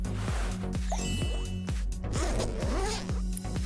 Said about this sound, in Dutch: Doe er een rits in.